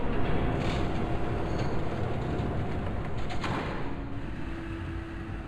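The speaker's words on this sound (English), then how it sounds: "There's a train coming. Take cover." A train rumbles past in Batman: The Telltale Series, Episode 3, a loud, steady roar of rolling wagons with faint rattles and a thin tone riding over it, without speech.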